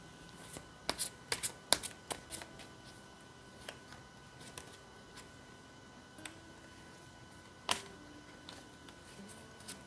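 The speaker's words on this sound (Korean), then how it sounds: "카드 살펴보도록 할게요." Tarot cards are shuffled and handled close by, with a series of quiet sharp flicks and riffles that cluster early and then thin out into sparse taps over a faint background.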